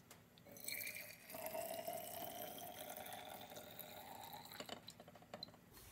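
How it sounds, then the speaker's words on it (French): Homemade cochineal dye pouring into a bottle, a steady close liquid trickle with a rising fill tone lasting several seconds, no talking. "Et je vais verser ça dans ma bouteille."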